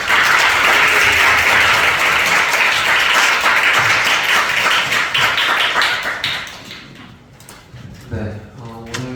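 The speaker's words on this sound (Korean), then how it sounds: "다시 한번 뜨거운 박수 부탁드립니다." An audience applauds after a lecture at a commemorative public forum for the June Democratic Struggle, loud dense clapping that tapers off, with a voice speaking as it fades.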